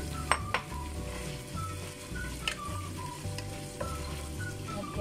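Chicken slices sizzle and fry in a pan with browned white onion for Filipino pancit, a steady close crackle broken by several sharp clicks of a utensil stirring against the pan.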